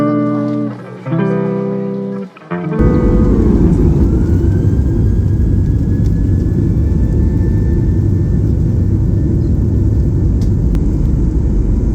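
A Ryanair jet pushes back and taxis toward the runway for a short hop to Santorini, heard from inside the cabin as a loud, steady engine roar and rumble rising after a few seconds of quieter tones and cabin sound.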